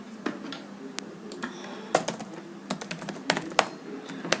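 A command being typed on a computer keyboard during network switch configuration: a steady run of close, crisp key clacks with irregular rhythm and a few louder strikes, no speech over it.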